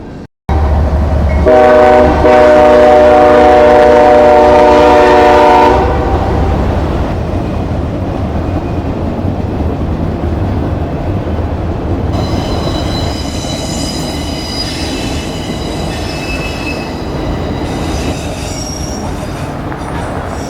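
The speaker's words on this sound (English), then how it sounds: "after this eastbound train went by on the CSX Newcastle sub" An eastbound CSX freight train rumbles past close by on the Newcastle Subdivision in Kent, Ohio, its horn blaring at first, then steady wheel noise and high metallic squeals as the cars roll on.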